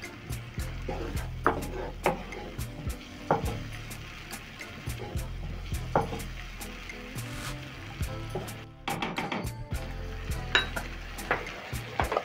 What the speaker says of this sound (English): Stir in everything together.